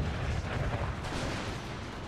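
Artillery fire in a large Empire: Total War battle: a dense, continuous rumble of overlapping booms and blasts rolls on without pause, loud and close.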